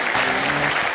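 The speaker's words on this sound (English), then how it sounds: "Everyone, please cheer Toby on" A conference keynote audience claps in a dense, steady burst of applause, filling the whole moment with no talk over it.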